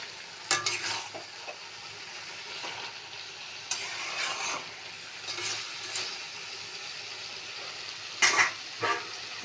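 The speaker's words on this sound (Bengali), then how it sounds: "শুকনো গরম কড়ায় নেড়ে গুঁড়ো করে দেবো।" Spoons scrape and crush ingredients in a dry, hot wok, with scattered stirring scrapes, short bursts and one loud clattering spurt near the end. The sounds are close, fairly quiet and heard without talk.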